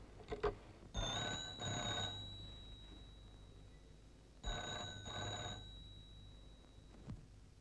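An old telephone in a 1950 Indian film rings in two long trilling bursts with a pause between them. It is faint and fairly distant, and there is a soft knock or click at the start and near the end.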